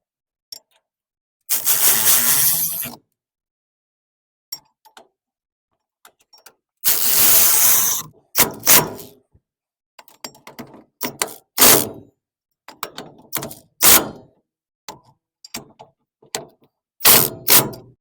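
A ratchet tightens the axle backing plate nuts on a vehicle, loud close bursts of rapid clicking separated by silent gaps, plus scattered sharp metallic knocks.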